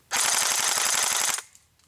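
An S&T Armament PPSH-41 blowback airsoft gun, powered by a 7.4 volt LiPo battery, fires one loud, rapid full-auto burst of evenly spaced shots lasting just over a second, close up, then stops abruptly.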